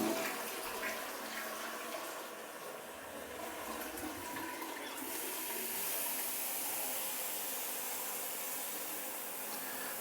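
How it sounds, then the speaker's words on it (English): Water running from a bathroom tap into a slow drain in a house in Spain, a continuous rushing flow that shifts to a brighter, hissier tone halfway through, with no talking. "Run some water."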